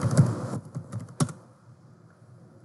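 Quick typing on a computer keyboard: a short cluster of close, crisp key clicks followed by a single later tap, then near quiet.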